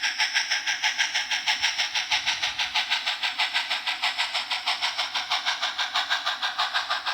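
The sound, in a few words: On30 model train running on layout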